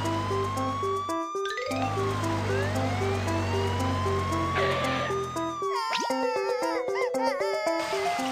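Cartoon fire truck siren in a children's panda game, a looping electronic wail rising and falling over bright game music, with chirpy tones and effects layered on top throughout.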